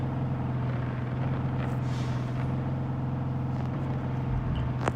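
A low, steady engine drone with a constant hum from a bus in the video game Car Parking Multiplayer, like idling or cruising, continuous throughout with no speech.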